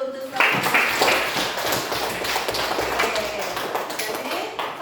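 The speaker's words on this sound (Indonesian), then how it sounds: "Tepuk tangan dulu untuk Oke." A group claps in a classroom-style session, with scattered sharp claps and taps mixed with voices talking over them.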